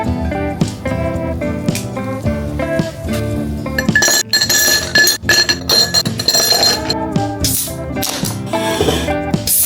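Glasses and dishes clink together repeatedly and loudly in a celebratory toast after a home dinner, with bright ringing taps and rattling tableware filling the moment; no voices.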